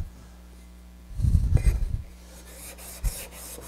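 Spokeshave blade honed on a 1000 grit stone with a 3000 slurry, a single close scraping stroke of about a second followed by a short tap, otherwise quiet.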